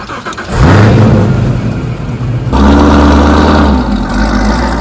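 A Chevrolet Camaro ZL1's engine starts and revs hard, a loud, close, deep roar rising after a brief quiet start and surging again midway before settling into a heavy rumble.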